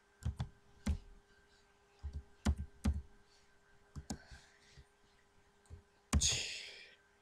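Computer keyboard keys clicking as a slash command is typed during a Minecraft session: scattered, sharp taps in small clusters with pauses between them, ending in a louder, noisier burst.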